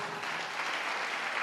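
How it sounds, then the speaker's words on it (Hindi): Audience clapping at a Hindi-language church healing service, a brief steady burst of dense applause with no talk over it. "ठोको ताली।"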